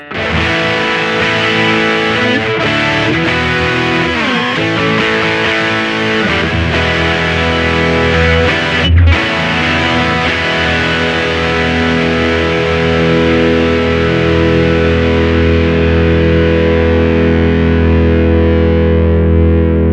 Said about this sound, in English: it's a much higher level of distortion.